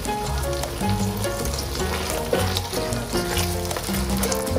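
Soy sauce, a tablespoon's worth, hits a sizzling pan of Chinese-style idli, giving a continuous frying hiss that runs beneath background music.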